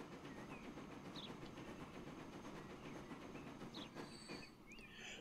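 Train running along rails in the transport simulation game Transport Fever 2, a steady rolling rumble with faint clatter and a few brief high whistling tones, continuous and moderately close throughout.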